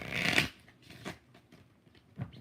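Tarot cards shuffled by hand, a loud riffling burst at the start followed by a few softer, scattered shuffling rustles, close and without talk.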